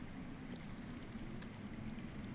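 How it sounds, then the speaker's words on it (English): Steady underground water flowing in the Telltale Game of Thrones video game, a continuous low rushing wash that stays even and moderately faint throughout, with no voices over it. "That's water. I hear water. From underground."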